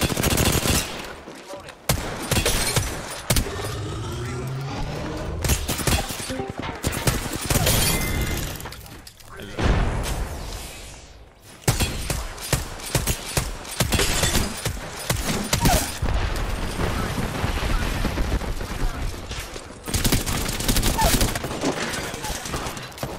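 Rapid bursts of gunfire from a shooter video game fill the clip, loud and near, with dense automatic fire and sharp cracks in repeated volleys and only brief gaps between them.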